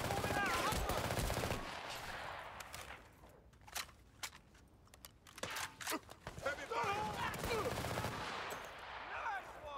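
Heavy machine-gun bursts from twin .50 caliber guns in the war game Battlefield: Bad Company, loud and rapid at the start and again toward the end, with scattered sharp shots between and a voice talking over the gunfire.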